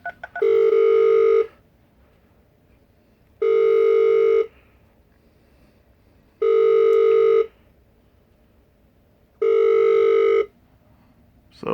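A cruise cabin telephone plays four identical electronic tones from the voicemail button, each about a second long and spaced evenly with silent gaps, clear and close.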